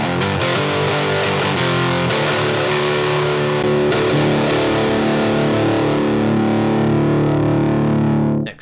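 Distorted electric guitar played through a Tweed Champ impulse response with an 8-inch speaker, no fade applied: sustained, scratchy chords ring loud and alone for about eight seconds before cutting off abruptly.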